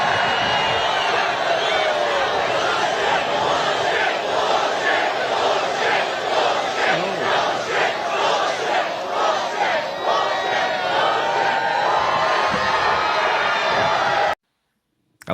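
A large crowd cheers and shouts wildly in a loud, continuous roar with rhythmic surges like chanting, sustained throughout before cutting off abruptly near the end.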